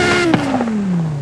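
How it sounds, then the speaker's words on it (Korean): A 2004 Porsche sports car with a 600-horsepower rear-wheel-drive engine settles from start-up into a smooth idle, its steady exhaust drone sliding gradually lower in pitch with a brief clatter early on, loud and close. "제가 시동 한번 켜볼게요. 스타트."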